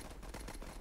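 Gatling gun fire in the World War I trench game Warfare 1917, a short dense burst of rapid rattling shots, steady and fairly loud.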